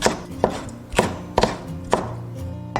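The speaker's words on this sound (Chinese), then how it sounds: "切一点红椒备用。" A knife chops red pepper on a cutting board with steady, evenly spaced thuds about every half second, close and crisp, with no voices.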